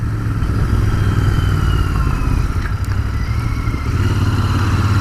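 The parallel-twin engine of a 2019 Royal Enfield Continental GT 650 runs with a loud, steady, throbbing note, close by and continuous, with no talk over it.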